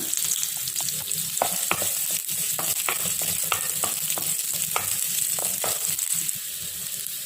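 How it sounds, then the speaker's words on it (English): Fenugreek seeds and a little onion sizzle in preheated oil for a Kerala-style Palakkad sambar, a steady close frying hiss with frequent sharp crackles and pops throughout, no voices. "So now I added fenugreek seed in that. A little bit of onion."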